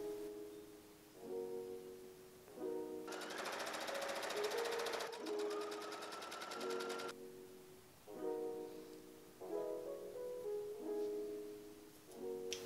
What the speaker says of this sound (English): I'm going to stitch this seam again, encasing that seam, so we have no raw edges.